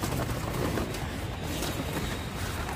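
Paired pigeons in their loft give soft cooing and rustling, a close, low murmur running continuously under a faint background hum.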